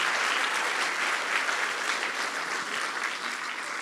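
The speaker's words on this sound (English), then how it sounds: "Let's give a round of applause." A round of applause from the audience at a national youth innovation grand final, a thick, continuous roar of clapping that stays full and steady throughout.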